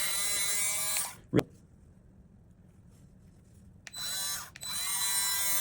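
A Sig Sauer P365's trigger parts being polished with polishing compound by a high-pitched motorized tool. It whines steadily for about a second, goes quiet, then whines again for the last couple of seconds, with a short sharp knock in the gap.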